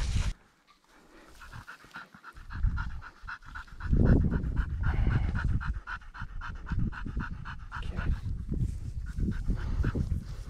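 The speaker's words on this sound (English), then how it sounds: "This is why you have a retrieving dog." A retrieving dog pants rapidly and close up during an African pheasant wing-shooting outing, the quick rhythmic breaths running almost continuously against outdoor background noise.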